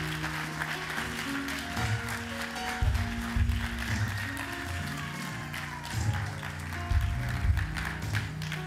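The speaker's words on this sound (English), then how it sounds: "Lifeline, clap for our first time guest." A church congregation claps to welcome first-time guests, a steady burst of applause from a crowd with organ or keyboard chords sustained underneath.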